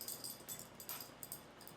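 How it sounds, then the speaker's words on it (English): A dog whimpers quietly nearby, thin high-pitched whines coming in short, repeated bursts against a hushed indoor room. "This dog."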